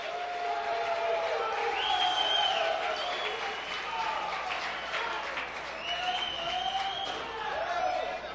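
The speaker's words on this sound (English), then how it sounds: "As the very partial Daniel De La Rosa crowd lets him know that they're behind him" A partial crowd at a US Open racquetball quarterfinal applauds and cheers for Daniel De La Rosa, with steady clapping and shouts throughout and a commentator talking over it.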